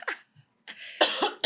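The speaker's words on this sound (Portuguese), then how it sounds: "Ai, vou ter que dar uma tosse, peraí." One person coughs several times in quick, harsh bursts at close range, with short breaths and pauses between them and no speech.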